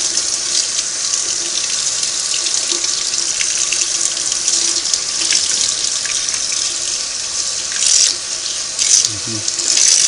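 Cold tap water runs steadily into a sink, rinsing degreased parts from a Singer 301A sewing machine; a loud, continuous hiss of flowing water with a few brief splashes near the end.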